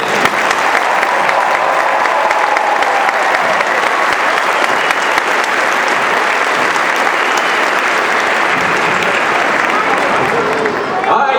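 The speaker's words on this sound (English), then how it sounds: "how about a round of applause for these men?" A large crowd applauds and cheers for the players at a Clemson Tigers national championship celebration. The roar is loud and sustained, filling the whole stretch, and an announcer's voice rides over it before it fades at the end.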